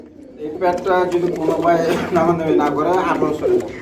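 Fancy pigeons, including an active breeding pair at a market sale, coo and call steadily in the foreground. The calls are close and fairly loud, with some voice-like murmuring mixed throughout.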